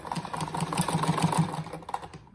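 Sewing machine stitching a seam on a patchwork fabric apron, a fast, even mechanical rattle of the needle running continuously at close range, with small clicks over a low motor hum.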